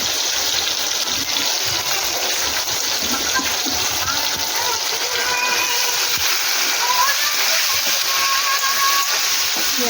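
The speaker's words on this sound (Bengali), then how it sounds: "পেঁয়াজটা ভেজে তুলছি।" Onions fry in hot oil with whole garam masala, bay leaf and dried chilli for mutton kosha, giving a steady loud sizzle and crackling spatter throughout.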